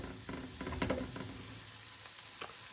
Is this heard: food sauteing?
yes